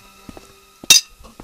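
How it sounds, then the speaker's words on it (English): A single sharp clink of a fork striking a plate rings out in the Broken Sword video game, a brief bright hit among quiet scattered background sounds. "that big clink you heard earlier was a fork on my plate"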